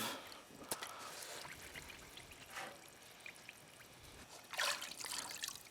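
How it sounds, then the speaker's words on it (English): Cleaning solution trickles and drips from a Honda VTX 1800 motorcycle air filter as it drains, faint irregular dribbles with a few brighter splashes, close and quiet with no speech. "we're going to let some of that drain out"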